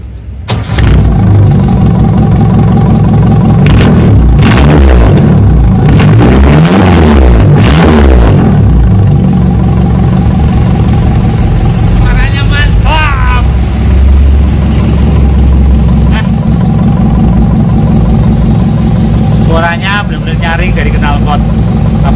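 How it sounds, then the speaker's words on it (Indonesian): A 1974 Toyota Corolla KE20 engine runs steadily and loudly throughout, a low rumbling idle with a few revs early on and brief voices talking over it. "Kita nyalakan mesinnya."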